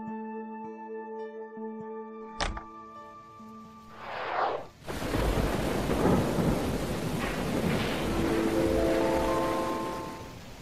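Rain and thunder in an animated Buddhist cartoon: a sharp crack of thunder, then a rumbling roll that gives way to a loud, steady downpour, with some tonal music fading in and out underneath.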